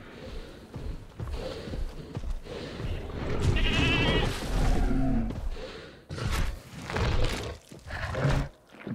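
A goat bleats repeatedly in a Jurassic World video game as a dinosaur devours it, the wavering cries loud and close over crunching and rumbling game sounds, with little or no talk.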